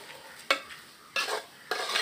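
Clams roasting in a pan, stirred in three short bursts of scraping and sizzling rattle, close up, separated by quieter gaps of low frying hiss.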